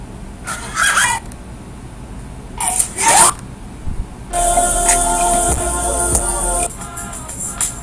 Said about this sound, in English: Aw, little chicken.